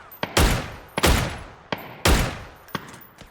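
Dragunov sniper rifle shots in PUBG, four loud sharp cracks spaced roughly a second apart, each with a booming decay, with smaller crack sounds in between.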